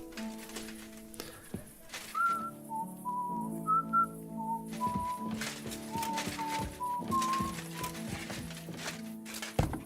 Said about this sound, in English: Are crows capable of whistling?